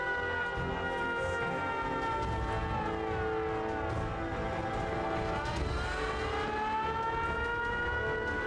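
A wailing siren rises and falls in a video game, loud and continuous, with rumbling low noise beneath it and no talking.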